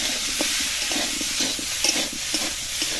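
Pumpkin and potato pieces fry over medium heat in a pan while being stirred and pressed down, giving a steady loud sizzle with soft rhythmic scraping strokes throughout and no talk.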